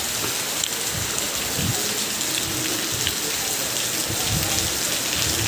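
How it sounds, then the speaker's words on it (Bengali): Heavy monsoon rain in Tamil Nadu pours down on a truck terminal in a dense, steady hiss, with soft low rumbles rolling underneath throughout. "মানে প্রচুর বৃষ্টি আর বৃষ্টি কি অবস্থা"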